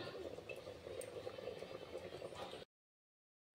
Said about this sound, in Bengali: এবার কিছুক্ষণ ঢাকা দিয়ে সিদ্ধ করে নেব।